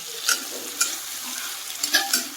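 Onions fry over high flame in a pan, giving a steady crackling sizzle broken by several sharp scraping stirs that repeat at uneven intervals, close and fairly loud, with no talking.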